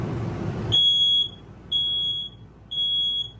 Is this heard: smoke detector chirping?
yes